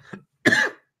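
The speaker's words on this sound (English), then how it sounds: "I still have a little bit of a cough left over." A single sharp cough from a person still getting over a cough, heard close and alone after a faint breathy lead-in.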